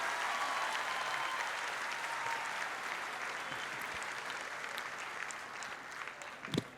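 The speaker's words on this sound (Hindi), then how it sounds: "अगर एक साथ ताली बजाएं तो ज़्यादा अच्छा लगेगा" Applause from the audience at a young poets' mushaira, dense sustained clapping from a seated crowd that holds steady and gradually thins toward the end, with no speech over it.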